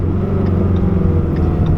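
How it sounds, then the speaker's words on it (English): A 2017 Shelby GT350 rumbles with a deep, continuous exhaust note, close and steady as the car cruises. "my favorite part about this car is the exhaust note"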